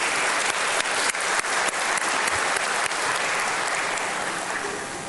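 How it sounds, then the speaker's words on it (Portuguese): Crowd applause at an anniversary celebration for pharmaceutical sales representatives, steady dense clapping with a few sharper individual claps, fading slightly toward the end. "Queria pedir uma salva de palmas para ele."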